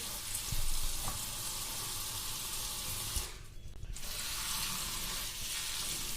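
Fenugreek leaves being washed by hand in a vessel of water, a steady wet swishing and sloshing close up, broken by a brief quieter pause before the splashing resumes.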